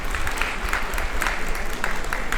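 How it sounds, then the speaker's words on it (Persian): An audience at an Afghan Independence Day celebration in Melbourne applauds as a tabla player is introduced on stage, a dense, steady round of clapping that fills the room and carries on without a break. "طبله نواز نجیم جان رحیمی، لطفاً تشویق کنید."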